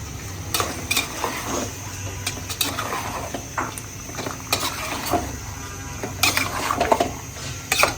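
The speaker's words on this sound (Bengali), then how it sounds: "আমি এখানে একটু নেড়ে দেবো মাংসগুলি" Meat is stirred in a cooking pot, with close clinks and scrapes of a utensil against metal over a soft background sizzle, coming in irregular bursts that grow busier toward the end, with no talking.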